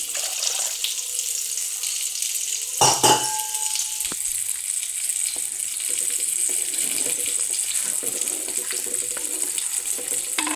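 Water poured into a bowl of tamarind pulp while making fish curry in a clay pot, a steady close splashing pour with one sharper splash early on and no talk.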